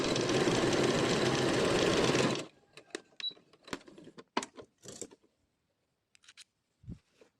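A sewing machine stitches fabric in a loud, steady whir for about two seconds, then stops abruptly; faint clicks and handling sounds follow.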